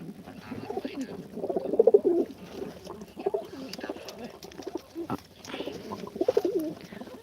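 Low, throaty pigeon cooing in repeated rolling bursts, close by, with a voice talking at moments in between.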